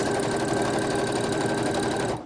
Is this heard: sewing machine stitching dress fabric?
yes